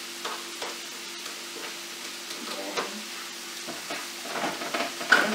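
Hard vegetables for chicken chop suey hit a hot pan and are stir-fried, giving a steady close sizzle with scraping and stirring strokes, no talking.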